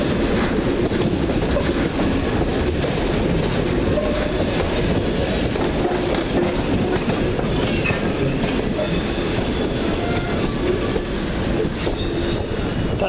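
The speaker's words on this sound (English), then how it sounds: "That turbo star over there is our train" A Turbostar diesel passenger train arriving at a station in the Capital Connect era, a steady loud rumble with rail and wheel noise running throughout, no voices.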